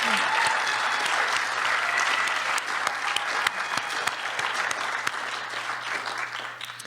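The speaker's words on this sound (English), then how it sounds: "round of applause" Applause from the audience for student poets at the Maine Poetry Out Loud state final, a full, even clapping from a large crowd with scattered sharp claps standing out, gradually easing toward the end.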